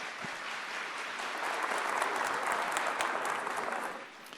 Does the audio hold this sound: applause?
yes